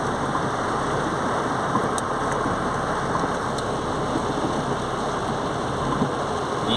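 Heavy rain pours down in Lapão, Bahia, a dense, steady hiss drumming on surfaces close by, with no voices and a faint engine rumble beneath.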